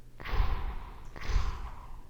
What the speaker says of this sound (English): You could hear the button sound there.